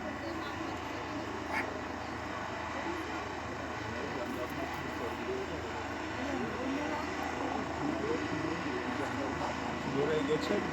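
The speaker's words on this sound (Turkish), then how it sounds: "Bu Malatya'nın helikopteri mi?" An ambulance helicopter flies overhead in rural Turkey, a steady engine and rotor drone that grows gradually louder over about ten seconds while people talk nearby.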